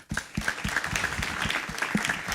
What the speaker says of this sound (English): Ladies and gentlemen, can we keep the applause going?